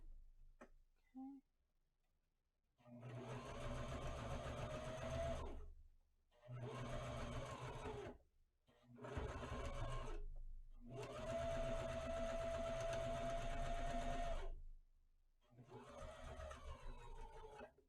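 A sewing machine stitches a fabric fashion mask in five steady bursts of rapid whirring, each several seconds long with short pauses between, close and clear with no talking over it.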